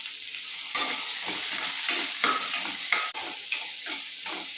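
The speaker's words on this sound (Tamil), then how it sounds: "வெட்டி வச்ச வெங்காயம் பச்சை மிளகா இஞ்சி கேரட்டு பீன்ஸ் எல்லாத்தையும் போட்டு லைட்டாக டாஸ் பண்ணிக்கலாம்" Onion, green chili, ginger, carrot and beans stir-frying in a pan: a steady sizzle with repeated stirring scrapes in an uneven rhythm, close and moderately loud, no talking.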